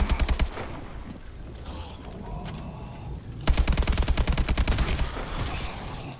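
Rapid automatic gunfire rattles in Call of Duty Advanced Warfare Exo Zombies, a fast burst at the start, a quieter stretch, then a longer loud stream of rounds, close and dominant.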